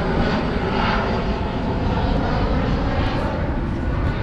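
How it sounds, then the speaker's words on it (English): An airplane passing overhead on its approach to land at LaGuardia Airport, heard from a Queens street in New York City as a steady, loud broadband engine roar that fills the whole clip. "There goes another airplane. It's landing at LaGuardia Airport."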